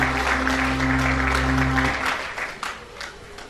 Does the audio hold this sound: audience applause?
yes